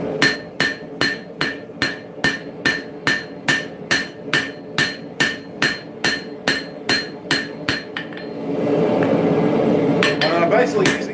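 A hammer rings out in a fast, even series of sharp metallic strikes, forging the neck of a railroad spike axe on an anvil, then gives way to a rougher, continuous noise toward the end.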